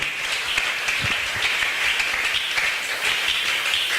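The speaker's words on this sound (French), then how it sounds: "Est-ce que tu peux encore acclamer fortement pour la gloire de Dieu?" A church congregation cheers and applauds in a dense, steady wash of clapping and shouts that stays loud and even throughout, with no single voice standing out.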